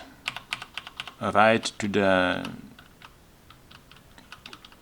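Keys clatter on a Cherry G80-1800 keyboard fitted with Keychron double-shot PBT keycaps, irregular close clicks and taps, with someone talking over the middle stretch.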